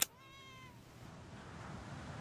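A cat meows once in the video game Street Fighter 6, a short rising-and-falling cry heard after a brief click, followed by a low, steady background hum.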